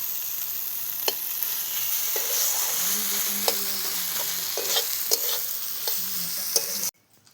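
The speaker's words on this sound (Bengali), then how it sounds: "এই যে মোচার তরকারি হচ্ছে।" Banana flower curry simmering in a pan gives a steady close sizzle, with a spoon stirring and scraping in scattered knocks throughout before it cuts off near the end.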